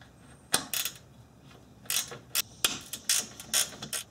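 Ratchet working on the two fasteners holding the alternator assembly of an Acura TL, heard as quick clicking bursts in irregular clusters, close and fairly quiet, with no talking.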